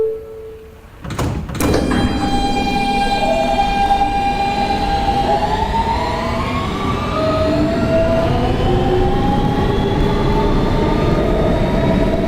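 Brooklyn-bound R local subway train, a Kawasaki R160B, heard from inside a car: door chimes near the start, then a steady loud running roar with rising and falling motor whine as the train accelerates.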